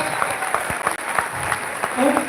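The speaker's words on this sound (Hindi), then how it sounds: "एक बार इनके लिए जोरदार तालियां हो जानी चाहिए।" An audience at a live motivational talk claps in a dense, steady wash of applause, with a voice faintly mixed in underneath.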